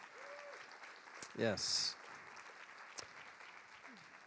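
An audience at a symposium applauds, a soft patter of clapping under a brief spoken word and some low crowd noise, fairly faint and distant.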